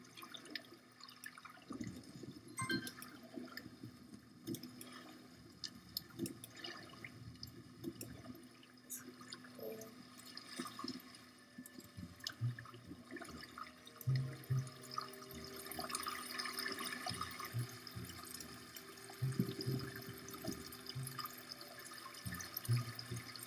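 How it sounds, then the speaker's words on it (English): Water runs in the block-building video game Creativerse, a faint, steady trickle with scattered drip-like plinks and soft splashes over a long stretch, with no one talking. "where we don't hear the water running"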